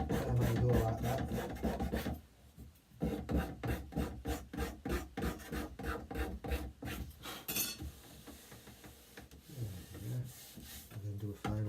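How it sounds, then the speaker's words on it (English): Hand scraper drawn over a wooden worktop in a rapid series of short, rhythmic rasping strokes, loud and close, with a brief pause near the start and softer scraping toward the end. "I'm not pressing on the scraper very hard at all, because I don't need to be taking much off"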